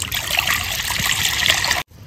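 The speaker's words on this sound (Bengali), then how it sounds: "কড়াইয়ে দিয়ে দেবো জল" Water pours steadily into a wok for a singhi fish and cabbage curry, a continuous close trickle and splash lasting almost two seconds before cutting off abruptly.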